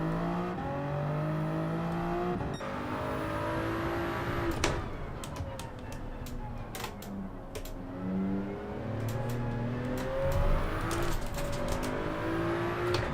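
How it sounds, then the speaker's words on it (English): An engine whines and wheels spin as a Toyota Supra Group 3 car launches at the start of a Gran Turismo 7 race at Daytona International Speedway, revs rising and falling with a few sharp transients, no voices. "Getting a big massive amount of wheel spin."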